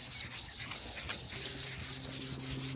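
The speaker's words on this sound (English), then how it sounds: "Might just run the sander over it at like 800 once I'm done." Sander working 800-grit paper over a Honda Civic EK plastic bumper, a close, steady rubbing scrub with rhythmic strokes throughout.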